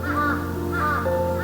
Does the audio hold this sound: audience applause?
no